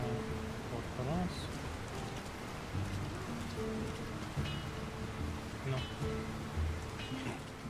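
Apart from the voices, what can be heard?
constant rain in a town in The Lord of the Rings: War in the North video game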